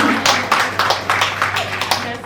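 Audience clapping at a women's awards ceremony in a Mumbai press club hall, a rhythmic run of about eight distinct claps in slow unison, fairly close and loud over a faint background hum.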